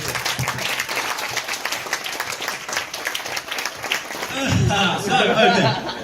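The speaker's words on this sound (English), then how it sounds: "Round of applause." Wedding guests at a best man speech applaud, the clapping steady then swelling, with chuckles and voices mixed in near the end.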